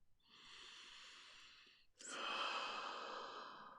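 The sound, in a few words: deep breath during guided meditation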